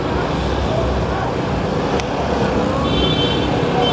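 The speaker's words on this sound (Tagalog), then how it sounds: "Traffic, no? Rush hour." Rush-hour road traffic in Cebu, a continuous dense roar of cars, buses and trucks at street level with no breaks, steady and fairly loud throughout.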